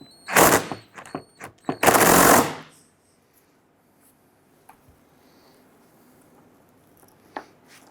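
An 8mm socket on a ratchet working fuel tank strap bolts on a 1997-2006 Jeep Wrangler: two loud, rapid clicking bursts up close, then near quiet with a few faint taps.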